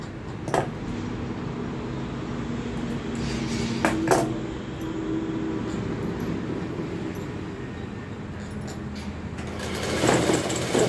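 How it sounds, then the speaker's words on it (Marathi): A sewing machine runs a straight seam along a narrow strip of leftover dress fabric folded twice, a steady continuous whir lasting throughout with a few light clicks, close and fairly loud, no voices. "पूर्णला बघा अशी सरळ शिलाई मारून घ्यायची आपल्याला"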